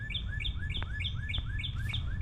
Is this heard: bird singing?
yes